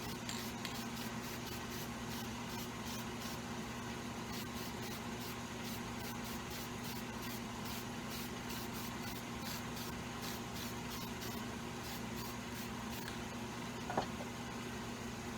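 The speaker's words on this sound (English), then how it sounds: "I'm going to come in with a little bit of black, spray it on the edges" Steady hissing spray of black dye onto leather edges runs continuously under a low mechanical hum, with a faint brief knock near the end.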